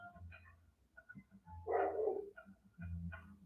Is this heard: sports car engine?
no